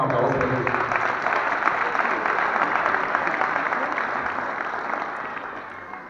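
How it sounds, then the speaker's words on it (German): An audience at a youth cup awards ceremony in Görlitz, Germany, claps in sustained, dense applause that holds for several seconds, then slowly tapers off. "Da ist denke ich auch nochmal einen Applaus."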